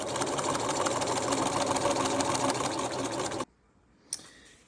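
A sewing machine stitches a belt in one continuous, fast, even whirring run that stops abruptly partway through, followed by quiet and a small click.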